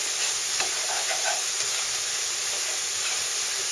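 Chili mixture in a pot sizzles and hisses steadily as its liquid fries off, a close, dense crackle with some stirring and no talk.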